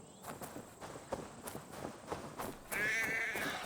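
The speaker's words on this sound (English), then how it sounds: "The sheep follows my whistle." A sheep in Assassin's Creed Valhalla follows along with footsteps pattering through the clip, then gives a short bleat near the end.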